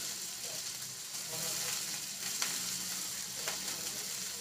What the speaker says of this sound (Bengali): মোটামুটি ভেজে নেব যাতে আলুটা সেদ্ধ হয়ে যায় সেই মতো।